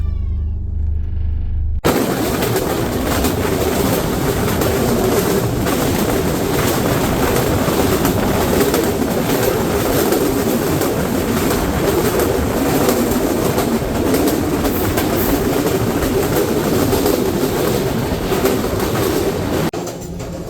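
Kapotaksha Express passenger train running from Khulna toward Rajshahi, about half an hour late; a loud, steady rumble and rattle of the moving carriages fills the whole stretch after a brief quieter opening, with no talk over it.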